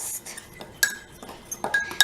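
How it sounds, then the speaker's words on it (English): A fork beats egg in a mug for a lemon mug cake, giving quick irregular metallic clinks and taps against the sides, close and fairly sharp, with short quiet gaps between strokes. "and then stir it, but really fast"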